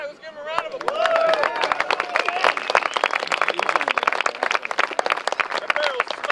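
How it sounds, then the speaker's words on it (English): An outdoor crowd claps in sustained applause after a Thompson submachine gun demonstration, dense and close, with a voice speaking over the start. "let's give him a round of applause."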